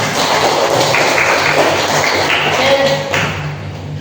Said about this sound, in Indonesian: kita kasih tepuk tangan semua